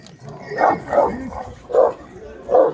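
An Anatolian shepherd dog gives four loud, close barks, spaced unevenly, with faint background voices.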